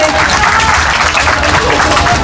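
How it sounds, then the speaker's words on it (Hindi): Loud, dense applause for children at a personality-development session, a continuous roar of many hands clapping close by with crowd murmur mixed in, steady throughout. "बच्चों के लिए जोरदार तालियां तो करते रहे"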